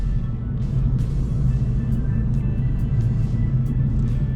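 A Kia car driving on city streets, with a steady low engine rumble and road drone holding throughout, close and loud, and a faint shift in engine tone as it downshifts.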